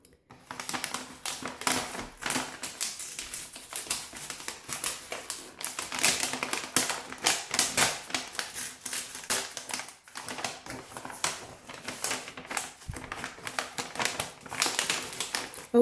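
Paper packaging being torn open and unwrapped from a planner subscription kit: bursts of crisp crinkling and rustling close by, coming in irregular waves with brief pauses, and no talking.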